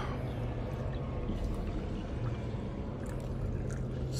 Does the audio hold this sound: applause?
no